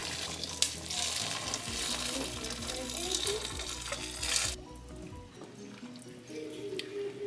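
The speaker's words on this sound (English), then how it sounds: "And then we'll add water." Water pours into a hot pot of Guinean fish ball soup with potatoes and hot peppers, a loud rushing sizzle for about four seconds, then cuts off, leaving a quieter bubbling simmer.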